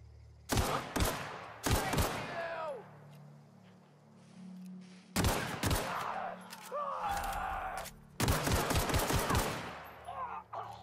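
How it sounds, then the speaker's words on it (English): Enemy gunfire in The Outer Worlds video game, bursts of sharp shots in three clusters separated by brief quieter gaps, with a low game hum running underneath. "Oh, he's actually firing at me."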